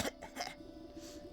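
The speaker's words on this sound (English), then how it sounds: "The goat coughs up disgusting hairball." A couple of short, raspy cough-like bursts of a goat coughing up a hairball in the video game Wytchwood, close and abrupt, followed by a steady low electronic hum.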